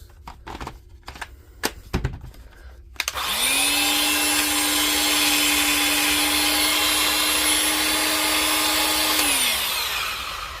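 A restored DeWalt angle grinder follows a few sharp handling clicks, then spins up and runs loud and steady with a high motor whine for about six seconds before winding down.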